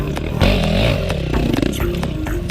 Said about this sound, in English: James has been getting into dirt riding more with a Yamaha WR450F